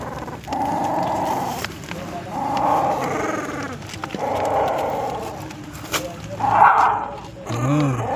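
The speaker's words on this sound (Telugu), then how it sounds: "ఇప్పుడే ఇది గర్ర అంటుంది" A newborn puppy, less than a day old, gives a few faint, rough growling sounds up close amid a person's talking and general household noise.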